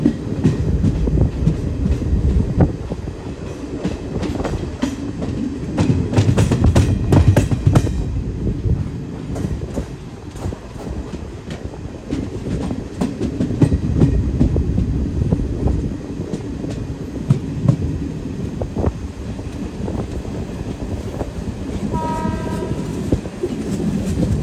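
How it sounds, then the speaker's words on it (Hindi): Calicut Janshatabdi SF Express, an ICF-coach train, rolls through a 180-degree curve near Kollam Junction, with a steady, loud rumble, rhythmic wheel clatter and squeal from the rails, and a brief horn note toward the end. "पूरी ट्रेन 180 डिग्री पे घूम जा रही है"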